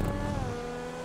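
A car engine drones steadily in a GTA video game, a loud, sustained motor tone with slight pitch drift, no voices over it.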